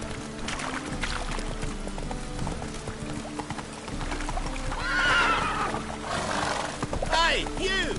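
Roach the horse in The Witcher 3 video game, clip-clopping hooves beating steadily with a couple of whinnying neighs, under game voices talking.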